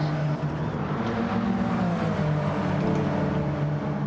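Race car engines droning steadily during a synchronised drift through a turn in a racing game, a sustained close roar with no clear tire squeal standing out.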